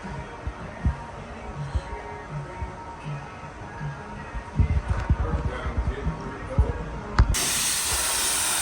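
A spray gun lays clear coat on a Peterbilt 379 in a paint shop; after knocks and bumps, a sudden steady loud hiss of spraying starts and holds, with voices talking earlier.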